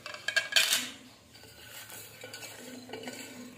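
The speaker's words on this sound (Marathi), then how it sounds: "त्याला मिक्स करायचं।" Cauliflower florets being mixed with salt and semolina in a bowl, with a brief flurry of scraping and clinking strokes at the start, then softer rustling and tossing sounds.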